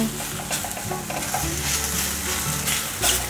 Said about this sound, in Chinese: 现在放入香菇， 快速的翻炒，把香菇炒香。